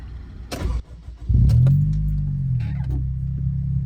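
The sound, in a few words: Acura RSX DC5 with Invidia N1 catback exhaust starting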